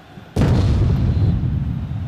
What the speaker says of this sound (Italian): ma non smettono fumogeni e petardi